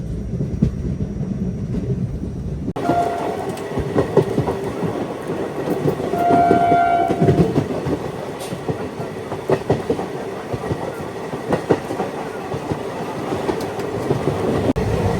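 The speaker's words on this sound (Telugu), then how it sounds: "ఇప్పుడు అటు సైడ్ లోకోమోటివ్ వస్తుంది చూడండి" The Sai Nagar Shirdi–Tirupati Express rumbling along the tracks near Tiruchanur with steady rhythmic clatter, loud and close, after a brief quieter start; a short horn-like tone sounds midway as a locomotive passes on a parallel track.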